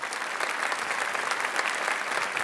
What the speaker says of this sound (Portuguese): Uma salva de palmas para a Ana.